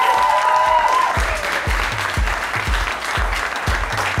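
Audience applause at a U20 poetry slam, a dense, steady wash of clapping filling the room, loud and continuous with no voices over it.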